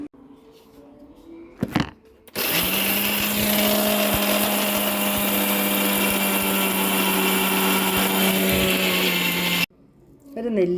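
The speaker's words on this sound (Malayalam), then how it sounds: "നമുക്കിനി ഒരു മിക്സിയുടെ ജാറിലോട്ട് ഇട്ട് ഇതൊന്ന് ആദ്യം ഗ്രൈൻഡ് ചെയ്തതിന് ശേഷം നമുക്ക് വെള്ളമൊഴിച്ച് അടിച്ചെടുക്കാം." A mixer grinder jar grinds roasted ingredients for a cooking recipe. The motor starts abruptly with a loud, steady, high-pitched whirring drone that holds for about seven seconds and then cuts off sharply, after a brief knock beforehand.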